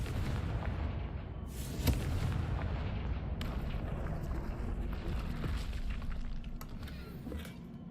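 A Confringo spell explosion goes off in a wizard video game, a sharp blast rising out of a dense, continuous rumbling roar that fades slightly toward the end.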